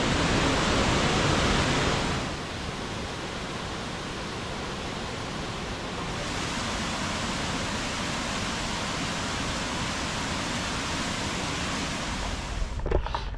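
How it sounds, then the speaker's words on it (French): Steady broadband roar of rushing water at the Krka waterfalls in Croatia, loud and continuous, easing slightly after the first couple of seconds and holding level to the end. "on a été voir les chutes de KRKA"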